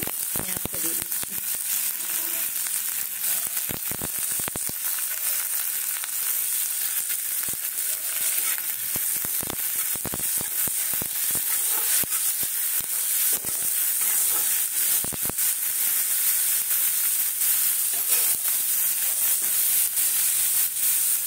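Chopped onion frying in a pan for a cauliflower vegetable dish, a continuous bright sizzle and hiss with scattered crackles and pops, close and steady, with no speech.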